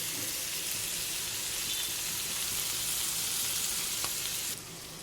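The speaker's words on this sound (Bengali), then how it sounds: "পেঁয়াজটা ক্যাপসিকামটা আর টমেটোটা একটুখানি ভালোভাবে ভাজা করে নেবো" Onion, capsicum and tomato fry together in a pan for chilli chicken, making a dense, loud, even sizzle that drops off slightly just before the end, with no one speaking.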